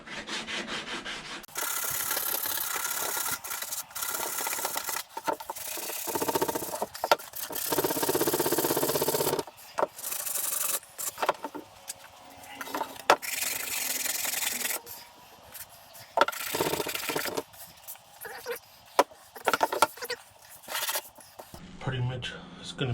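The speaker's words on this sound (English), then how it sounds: "we do some sanding here" Sanding on a custom center console for an OBS single-cab GMC Sierra truck: long, loud rasping strokes in bursts, separated by short pauses and scattered knocks, with a voice talking at times.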